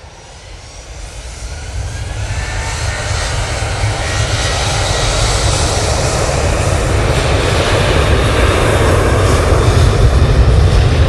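A Ryanair airliner takes off from Manchester Airport bound for Belfast, its jet engines building from a rising roar into a loud, steady, broadband rumble that fills the whole stretch with no voices.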